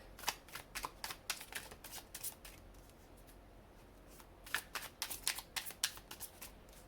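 Tarot cards riffled and shuffled in two close, crisp bursts of rapid flutter separated by a brief quiet pause, no voices.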